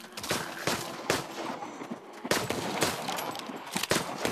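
Repeated gunshots sound from the VR zombie shooter game Arizona Sunshine, sharp bursts of about a dozen pistol shots at uneven intervals, loud and close, with no talk.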